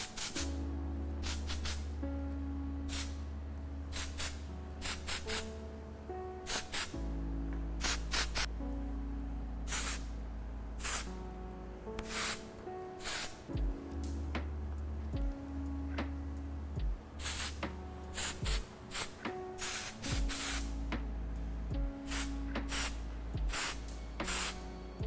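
A can of hair texturizing spray adds grit to a freshly dry-cut pixie mullet, with many short, sharp hissing bursts in irregular rhythm over a low steady hum.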